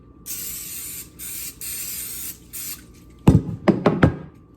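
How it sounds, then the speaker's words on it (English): Cooking spray greases a baking pan for banana bread. Four short, close hissing bursts come one after another, followed by a few sharp knocks of the pan. "And now I'm gonna grease my pan."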